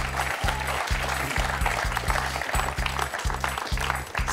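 A studio audience on a French television quiz show claps steadily in a dense wash of applause, with a rhythmic, pulsing musical beat thumping underneath throughout.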